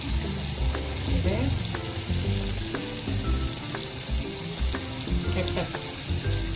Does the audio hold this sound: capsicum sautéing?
yes